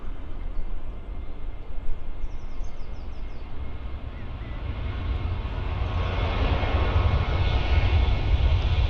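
A passenger jet on the Porto flight at Stansted Airport rumbles steadily with engine noise that swells louder toward the end, heard from a moderate distance with no talk.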